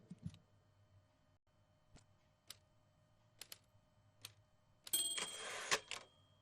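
Faint, sparse keystrokes tap out on a typewriter in the video game Before Your Eyes, with single clacks spaced irregularly, then a denser burst of mechanical clatter near the end.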